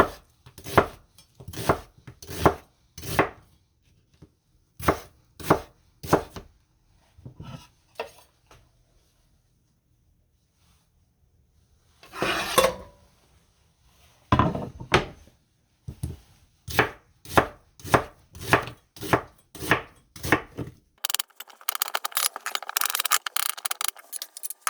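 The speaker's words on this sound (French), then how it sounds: "Et on va couper nos oignons." A knife chops onions on a cutting board for French onion soup, in quick close rhythmic bursts separated by short pauses, with a steady sizzle from a pan taking over at the end.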